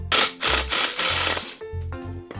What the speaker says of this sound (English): Then we screw it all together.